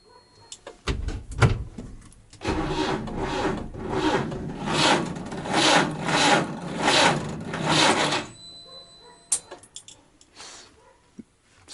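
Starter cranking a UAZ engine on a borrowed Lada Kalina battery, a loud labored grinding churn lasting several seconds in rhythmic surges that fail to catch, preceded and followed by clunks and a few sharp knocks.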